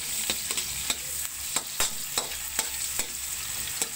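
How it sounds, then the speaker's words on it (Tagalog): Garlic, onion and ginger sautéing in hot oil, a steady bright sizzle with regular spatula scrapes and taps against the pan roughly every half second, close and continuous with no talk. "Magisa na tayo ng bawang, sibuyas at luya."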